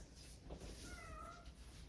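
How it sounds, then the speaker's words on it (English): A cat gives a single drawn-out meow from another room beyond the door, faint and muffled against a quiet indoor background with no talking. "Apologies if you can hear my cat crying out there."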